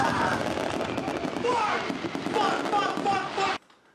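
Fireworks burst and crackle continuously, with dense popping and whistling tones layered under a lively backdrop, cutting off abruptly near the end.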